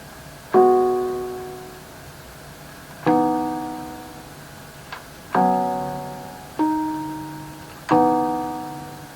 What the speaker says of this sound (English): these poly chords that I came up with on this synth